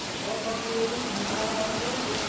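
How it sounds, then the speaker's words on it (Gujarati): Steady rain falls in a continuous soft hiss, close and moderately loud, with no voices. "મસ્ત મજાનો વરસાદ ચાલુ થઈ ગયો"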